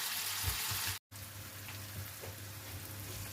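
Vegetables sauté in a pan for tuna noodles, giving a faint, even sizzle over a low hum, with a brief cut to silence near the start.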